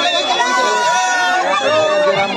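A crowd gathered at a welcome event with dancing in Kuju Murpa, Ramgarh, heard as steady close babble of many voices while someone talks over it.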